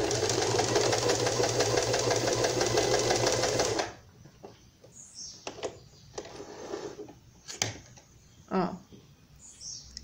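Sewing machine stitching Barbie doll clothes runs as a loud, steady mechanical whir for the first four seconds, then stops, leaving quiet handling noises and a few faint clicks.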